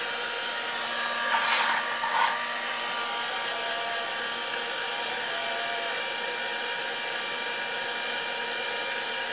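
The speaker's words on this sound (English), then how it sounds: "we need to emboss it, so we need our embossing tool" A heat embossing tool blows a steady, close, even hiss of hot air over vellum for cardmaking, with a slight swell early on and otherwise unchanging to the end.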